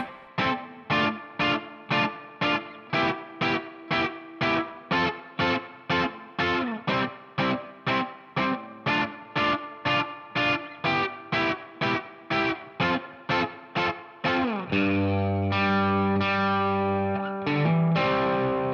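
A distorted electric guitar chugs a fast, evenly pulsed riff, then opens into loud sustained chords near the end; no voices.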